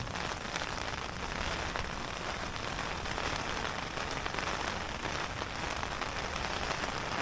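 Sleet falls steadily near Taynuilt by Loch Etive, a dense, continuous hiss of icy pellets pattering on surfaces, fairly quiet and even throughout with no voices.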